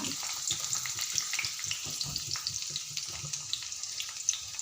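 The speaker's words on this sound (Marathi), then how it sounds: "त्यामध्ये मी बारीक चिरलेला एक कांदा घालत आहे बारीक चिरलेला कांदा छान हलकासा भाजून घेऊया" Finely chopped onion fries gently in hot mustard oil, giving a soft continuous sizzle with light crackles and the occasional stir.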